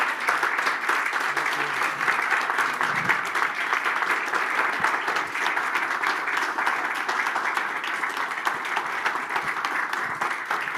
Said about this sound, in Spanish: Les pido un fuerte aplauso para el juez Lorenzetti